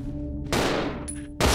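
Pistol shots in the survival horror game Resident Evil 0, sharp broadband cracks with the loudest blast at the end, heard alone without talk over a low game drone.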